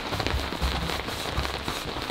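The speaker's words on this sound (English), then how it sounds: "it's starting peeing it down with rain outside" Heavy rain pours down outside on a sailing boat, a dense constant hiss of drops drumming on the deck and surfaces, with a few sharper patters standing out.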